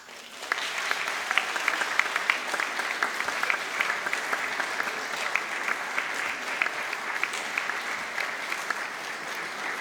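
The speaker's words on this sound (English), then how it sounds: "this is your chance to applaud your family and friends who've supported you" Steady applause from a sizable university graduation ceremony audience in Newport, dense continuous clapping sustained for the full length with no voices standing out.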